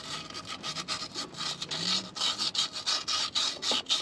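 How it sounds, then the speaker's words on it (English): Sandpaper scrubs the inside of a freeze plug hole in a twin-supercharged 350 engine block, giving a steady run of close, rhythmic rasping strokes with no talk. "I'm going to clean it out with some sandpaper"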